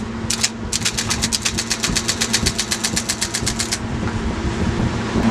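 A 1977 IBM Selectric electric typewriter under repair, gummed up: a rapid run of about twenty-five evenly spaced mechanical clacks over a steady motor hum, then the motor keeps humming alone.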